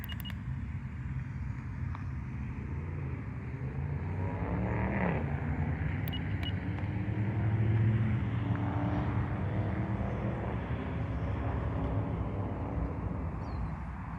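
A small RC Cub-style trainer airplane's electric motor and two-bladed propeller at full throttle make a steady, moderately distant whine that swells slightly as the plane passes, with no talking.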